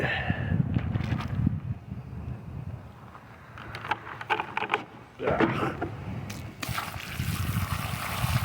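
Water poured and splashed over laptop parts to rinse them, coming in uneven trickling bursts with brief quieter gaps, close to the mic.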